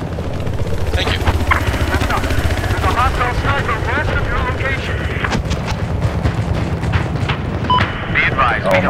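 A helicopter in the Battlefield 4 shooter game thuds and roars steadily in the background, with gunfire and explosions breaking in and players talking over it throughout.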